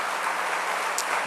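A church congregation applauds in a short, dense burst of clapping that fills the room evenly, with no voice over it.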